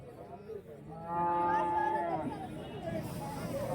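A cow moos at a cattle market in Santhipuram, Andhra Pradesh, giving one long, loud, drawn-out low call amid crowd babble and nearby chatter.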